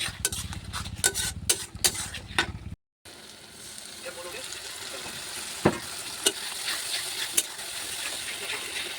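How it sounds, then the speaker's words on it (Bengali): Ginger and garlic paste fries in a pan with chopped onions while a spoon stirs and scrapes, a soft steady sizzle broken by sharp utensil clicks, with a brief drop to silence early on. "এর মধ্যে দিলাম আদা বাটা আর হচ্ছে রসুন বাটা"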